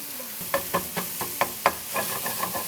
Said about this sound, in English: when we got that flat layer of the pork, we're gonna let it cook and brown on one side